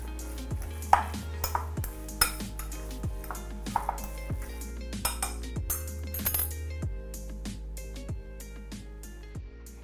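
Meatball mixture with a small clove of garlic being worked together in a bowl, with repeated clinks and scrapes of utensil against dish over steady low background hum, no talking.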